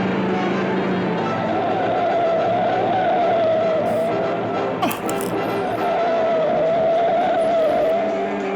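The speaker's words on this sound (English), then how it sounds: "his tires screeching around the curves" Car tires squeal around curves in a 1962 film, a sustained loud screech with engine roar that holds steady for several seconds over a dense, continuous background of music and noise.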